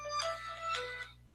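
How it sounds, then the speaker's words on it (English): A mobile phone ringtone plays bright electronic melodic tones in repeated bursts over a steady low hum, alone and moderately loud. "maybe, of course, my phone rings."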